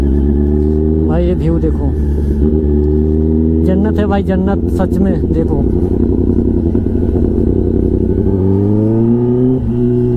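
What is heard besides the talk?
Kawasaki ZX-10R with SC Project exhaust revving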